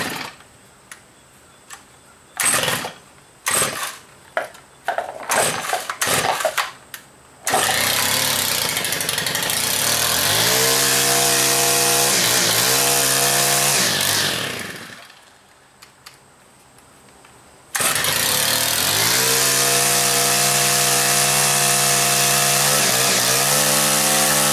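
A Stihl chainsaw is pulled several times with the choke on, giving short sputtering tries. It then catches and runs loud and steady, revving up and down before briefly cutting out and restarting at a strong, high whine.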